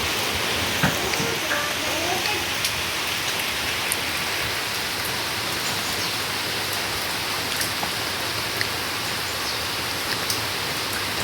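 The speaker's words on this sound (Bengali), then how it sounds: "তারপরেও দেখো বৃষ্টি থামছে না" Steady, dense rain falls continuously, with scattered drops pattering on surfaces throughout; no other sound stands out.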